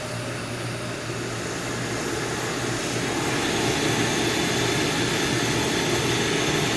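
A Coleman single-burner camping stove is lit and burning, giving a loud, steady, close roar of rushing flame that swells slightly and holds without a break.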